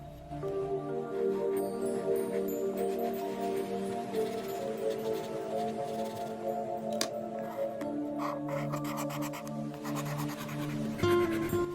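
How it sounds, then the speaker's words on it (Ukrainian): A pen drawing small squares in a paper study planner, faint scratchy strokes and light paper rustles close up, heard under a steady tonal music bed with no talk. "Малюємо ось такі квадратики, в яких можна буде писати важливі плани та події дня."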